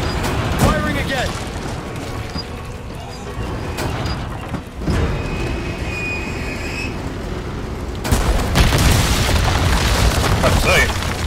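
Combat in the video game Resident Evil 4 Remake: heavy booming explosions and bursts of gunfire, with a sharp blast near the start and another loud surge near the end, over a continuous noisy background.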